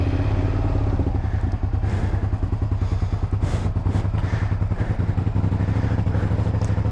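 Cold start of a 1999 Suzuki SV650 motorcycle on choke, in neutral; the V-twin settles into a loud, steady, fast idle with uneven lumpy pulsing and clattering, close by, with no talk.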